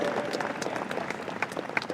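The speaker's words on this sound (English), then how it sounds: "So please, a loud cheer for Ed Davey." A farmers' protest crowd applauds and cheers for Ed Davey, a dense wash of clapping with scattered shouts at moderate distance, steady throughout.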